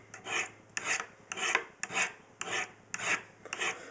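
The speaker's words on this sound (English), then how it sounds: "if you have a pretty dull knife and you're starting off with the medium rods here, maybe 15-20 strokes per side" A knife blade drawn in steady, evenly spaced strokes along Lansky Crock Stick medium ceramic sharpening rods, a close scraping rasp repeating about seven times in a regular rhythm, with no voices.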